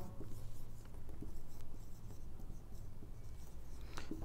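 Marker or chalk writing on a board in a computer science lesson, faint scratchy strokes and taps in short bursts against quiet room noise, with no talking.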